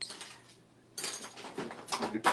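Metal spoons clink against a container while stirring outdoor fabric paint for patio cushions: a few quick, bright taps near the end, after a quieter stretch of soft stirring and handling noise.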